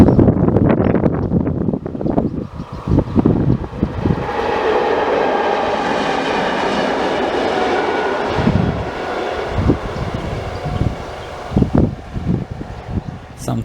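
Nordwestbahn regional train passing a station where it stops, a broad rumbling rush that swells and holds for several seconds amid wind noise, with irregular clunks and knocks before and after.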